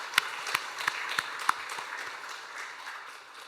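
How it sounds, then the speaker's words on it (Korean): A congregation claps for the church choir: a few sharp, distinct claps ring out early, then a soft, diffuse patter of applause lingers faintly and fades. "우리 시온 찬양대를 위해서 다시 한번 박수 한번 해주시죠."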